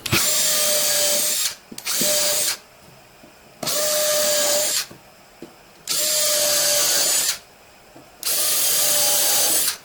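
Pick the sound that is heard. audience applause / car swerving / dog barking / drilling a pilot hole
drilling a pilot hole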